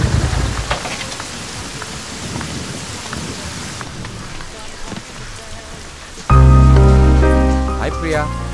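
Rain falls outdoors in a steady, dense hiss for several seconds before loud music abruptly takes over.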